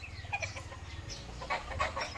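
Gamefowl roosters and stags cluck and call on a farm, short scattered bird calls at moderate distance over a low rumbling background.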